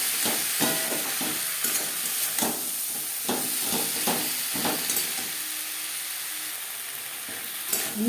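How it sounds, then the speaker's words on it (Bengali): Eggplant with spices frying in a pan over a low to medium flame, a steady sizzle with repeated close scraping stir strokes that fall quieter toward the end. "লো টু মিডিয়াম ফ্লেমে নাড়াচাড়া করে নেওয়ার পর দিয়ে দেবো বেগুন"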